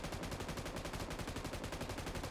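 Sustained rapid automatic fire from an M249 machine gun in a video game, a dense unbroken rattle of shots lasting the whole stretch, loud and close with no talking.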